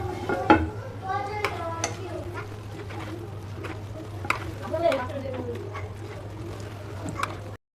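Heated oil stirred into a green sauce of coriander leaves and green chillies: light scraping and clinking of a spoon against a bowl, several soft strokes close by over a low steady hum.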